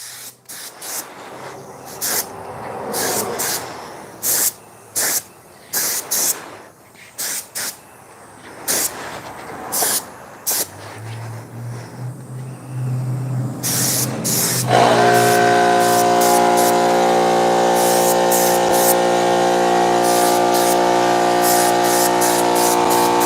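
A spray gun applying ceramic coating to a BMW E36 M3 intake and timing cover hisses in repeated short bursts, then settles into a long continuous spray with a steady tonal whine from the equipment underneath.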